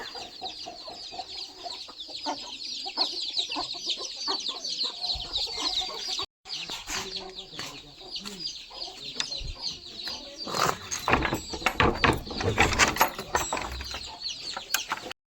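Several chickens cluck and squawk nearby on a farm in a busy, uneven chorus, with a brief gap midway before the clucking grows louder and denser.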